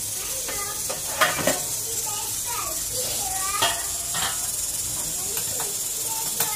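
A spoon stirs a Maharashtrian potato and aubergine curry in a pan, giving scraping strokes and soft clatter over a constant hiss of simmering, repeated every second or so, with a few sharper knocks against the pan.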